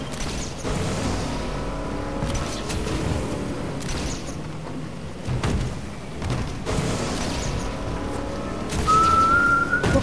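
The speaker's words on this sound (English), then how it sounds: "Well, can you stop whistling, dude?" A person whistles a wandering, unsteady tune at close range, with short pauses between phrases and a faint background rumble.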